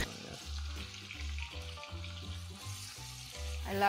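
Meat and onions sizzle and crackle steadily in a hot cauldron for plov, with rhythmic low thumps of stirring throughout.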